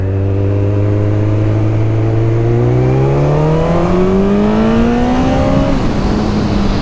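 A motorbike engine pulls loud and close through the gears, its pitch climbing steadily under a continuous rising drone, then dropping at each shift before climbing again.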